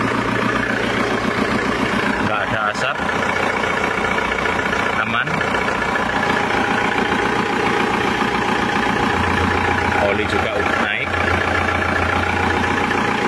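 A Kia Carnival diesel engine idles steadily and loudly throughout after being rebuilt, a low continuous rumble with people talking over it.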